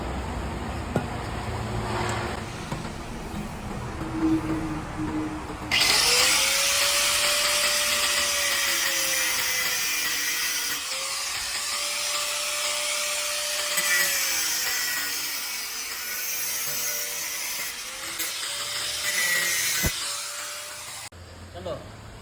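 A power tool cuts open a car shock absorber (strut damper, non-gas type), giving off a loud, sustained whine that wavers in pitch for about fifteen seconds, with speech heard before it starts.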